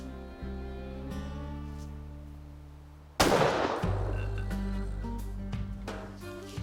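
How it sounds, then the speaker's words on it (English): A hunting rifle fires once at a deer about 200 yards away near a highway tree line: a single sharp, loud crack partway through, followed by a rolling echo, against a steady low engine-like drone. "made a good, clean shot at about 200 yards"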